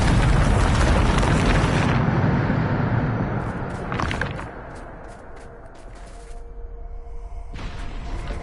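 Bombarda spell explosion in Hogwarts Legacy, a loud broadband blast that rumbles and fades over a couple of seconds, followed by a smaller burst and lingering game effects and tones.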